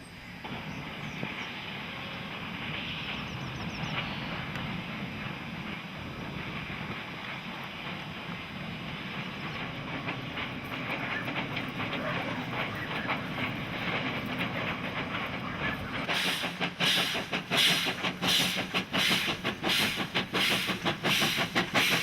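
A train rolls across the historic Ormondville railway viaduct, built around 1880, with a steady rumble and hiss. Later, rhythmic clickety-clack from the wheels grows louder and more distinct as the train moves over the joints.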